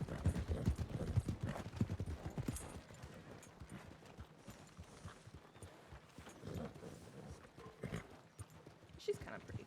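Horse hooves clip-clop in a steady walking rhythm in Red Dead Redemption 2, close and clear, with a person talking over them in parts.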